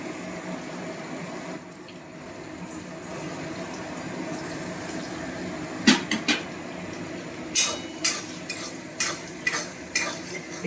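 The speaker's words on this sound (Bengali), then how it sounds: "সব কিছু মশলা টশলা দিয়ে একদম মানে মাখো চাকো তেলের মধ্যে চুপু চুপু হচ্ছে।" Spices and oil sizzle in a pan for a home-cooked dish, a steady close frying hiss, joined partway through by repeated scraping stir strokes against the pan in a loose rhythm, with no talk.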